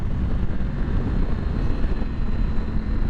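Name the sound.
Triumph Tiger 900 GT Low motorcycle engine at full throttle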